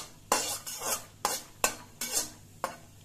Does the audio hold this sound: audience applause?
no